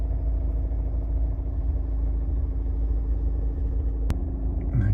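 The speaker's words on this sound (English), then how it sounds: "Engine's running, as you can see, there's no warning lights on." A Honda Civic 1.6 i-DTEC diesel SR five-door idles with a steady low rumble and even hum, close and continuous, broken only by one brief click.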